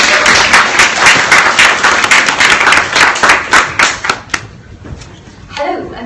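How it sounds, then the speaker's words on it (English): A conference audience applauds to welcome a panel on building diverse work cultures, loud dense clapping that thins into a few scattered claps and fades out. A voice begins speaking near the end. "Warm round of applause to welcome our panel of"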